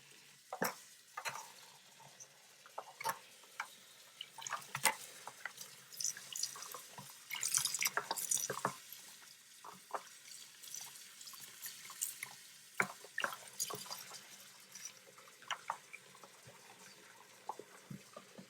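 Water splashes and drips while a dirty HRV filter is rinsed in a sink with mild dish detergent under warm water: irregular close drips and splashes, with a denser burst of running water midway, quiet overall.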